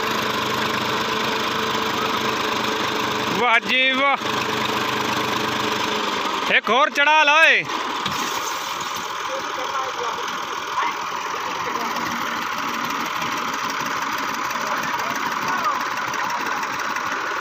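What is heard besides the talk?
tractor engine running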